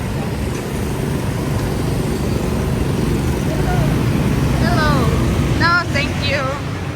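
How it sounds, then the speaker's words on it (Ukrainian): Motorbikes ride past on a busy street in Vietnam, a steady close engine drone with rising and falling horn-like tones toward the end, while people talk over the traffic. "Тільки чекай, бо байки ще їдуть."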